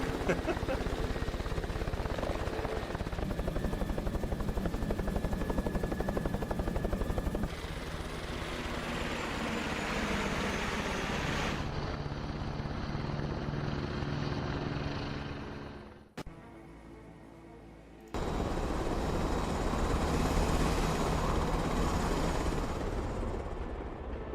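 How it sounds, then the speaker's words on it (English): Helicopters in the Broken Arrow video game, a loud continuous rotor and engine roar whose tone shifts in stages, briefly cutting out near the middle before resuming. "helicopters are noisy"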